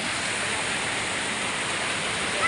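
Kilangin Falls in Liliw, Laguna, a steady loud broadband rush of falling water, close and unbroken, with no talking.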